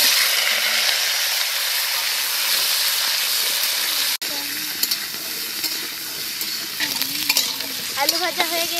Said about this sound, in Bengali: এবার কড়াই চাপাবো ওই কড়াইয়ে হালকা তেল দিয়ে দেব এবার আলু আমি ভেজে নেব